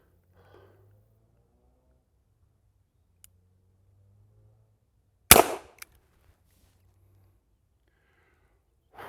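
During a PPC revolver match, a 1962 S&W Model 14 revolver fires a single loud, sharp report that breaks an otherwise near-silent stretch, followed by a faint click.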